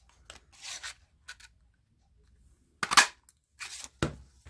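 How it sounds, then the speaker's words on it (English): Scissors snip off the end of a paper strip during card making: a few short, crisp cuts spaced apart, close and fairly quiet, with no talking. "I'm going to snip off an end so I can continue"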